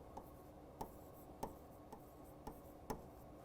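Words written on a board during a fourth-grade maths lesson, heard as faint, evenly spaced taps and short scratches, about six strokes in a few seconds, close and isolated over low room noise.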